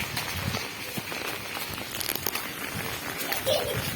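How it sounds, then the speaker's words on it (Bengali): Heavy rain pours on a vegetable garden, a dense, continuous hiss with crackling texture throughout and faint voices in the background. "আর বৃষ্টি হচ্ছে প্রচণ্ড বৃষ্টি"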